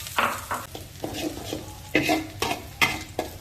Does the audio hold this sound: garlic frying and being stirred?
yes